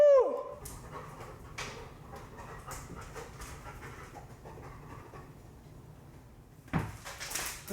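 Search and rescue training dogs panting and whimpering close by, with scattered clatter and a sharper knock or door sound near the end; no one speaks.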